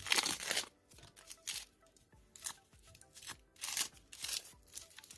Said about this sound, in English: I'll remove some of the dried sheets, like the ones that they are just peeling away.